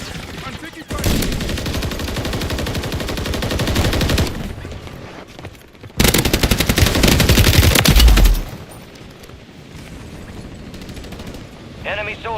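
Automatic gunfire in a combat video game, with two long loud sustained bursts of rapid shots separated by a brief break, dense and close, with faint voices around them.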